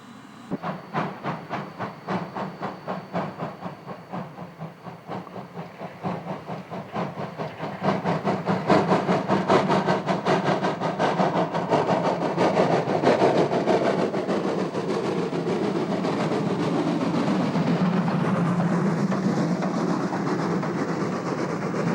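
Steam locomotive 1227, a 1943 Breslau-built engine, working a winter steam railway in Austria, with rapid exhaust chuffs and hiss that grow louder and steadier midway, then a continuous rolling roar.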